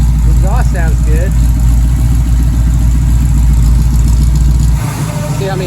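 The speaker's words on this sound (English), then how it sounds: "The exhaust sounds good." A 1968 Pontiac Firebird's exhaust idling, a loud steady low rumble close by that drops slightly near the end, with someone talking over it.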